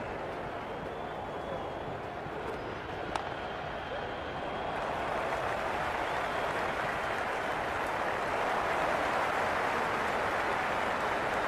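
Stadium crowd noise from a Cricket 26 T10 match between Pakistan and England, a dense steady roar and cheer that swells slightly louder in the second half, continuous and broad like a packed stand heard from the field.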